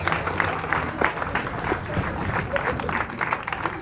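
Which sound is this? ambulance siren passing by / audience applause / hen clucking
audience applause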